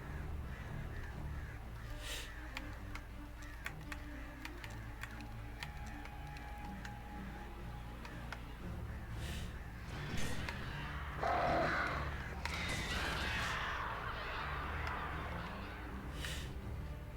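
Crows caw in the Alan Wake video game amid a dark ambient drone, scattered ticking clicks and a few louder harsh caws and rustling bursts toward the middle, with no speech.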